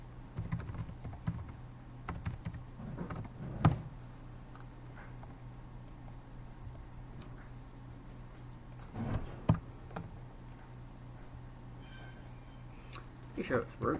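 Computer keyboard typing at a desk, soft scattered clicks in short bursts with pauses, fairly quiet against a low steady hum.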